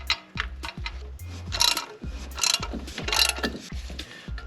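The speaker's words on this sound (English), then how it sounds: "All right, so now let's tighten this bad boy down." A hand ratchet tightens a spark plug on a 1989 Chevy K1500 pickup truck, giving repeated quick clicking bursts in steady strokes, close and fairly loud with no talk.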